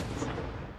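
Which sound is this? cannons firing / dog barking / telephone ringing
cannons firing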